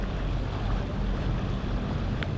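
Floodwater churns around a bicycle being pedalled through a long stretch of flooding, a steady rushing wash of waves with heavy low rumble and wind buffeting the microphone throughout.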